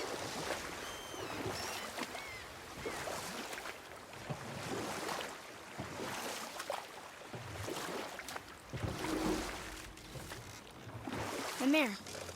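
Oars dip and pull as a small boat is rowed across water in the video game God of War, rhythmic splashing strokes with lapping waves and wind, heard beneath character dialogue.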